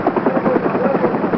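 An evacuation helicopter during the fall of Saigon in April 1975, its rotor a loud, continuous rhythmic chop close by, filling the whole moment with steady thudding.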